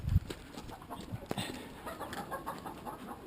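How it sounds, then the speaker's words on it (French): Hens in an outdoor chicken run on a farm cluck faintly against steady background noise. Soft, scattered calls come through without any talk. "Voilà les poules."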